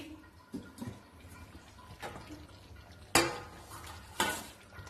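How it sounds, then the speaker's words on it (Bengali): A metal lid lifted off a pot of simmering meat curry, with a few clanks and scrapes of metal on metal, two louder clatters near the end, no voices. "এবার ঢাকনাটা খুলি"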